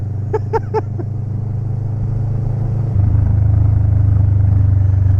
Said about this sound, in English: Oh, Marcus, all your bikes always make amazing sound.